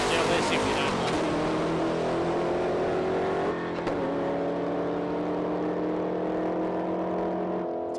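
A supercharged LS-engined drag car runs down the strip at a drag racing test day, a loud engine roar climbing through gear changes and then holding steady, with a voice talking over it.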